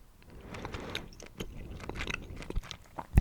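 Gum is chewed close to the microphone for ASMR, giving soft wet smacks and crisp clicky bites in an uneven rhythm with no talking.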